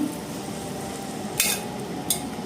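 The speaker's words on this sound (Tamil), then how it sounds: "நல்லா மிக்ஸ் பண்ணிக்கோங்க" A bottle gourd dish gets stirred and mixed in a hot pan, a steady close sizzle broken by a couple of brief scraping sweeps of a utensil, with no voices.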